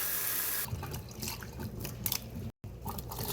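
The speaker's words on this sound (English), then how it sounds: "I like to wash these vegetables off anyway" Tap water runs steadily into a sink as vegetables are rinsed beneath it, with splashing bursts that shift as the food moves under the stream and a brief dropout near the end.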